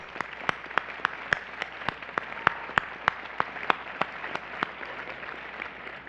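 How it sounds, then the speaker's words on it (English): Scattered, sparse hand claps ring out at a steady rhythm for a graduating class at an undergraduate honors convocation, faint and somewhat distant, with no voices over them. "Please join me in applauding our class."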